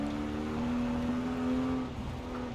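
A 2019 Porsche Macan rally build in Forza Horizon 4, engine humming with a steady, rising tone that eases off near the end, close and moderately loud with no talking.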